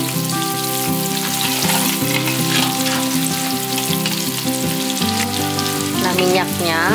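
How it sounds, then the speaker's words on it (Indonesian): Onions fry in hot oil while cooking a squid sambal, a loud continuous sizzle close by with occasional stirring scrapes and soft background music underneath. "Goreng sampai kuning keemasan."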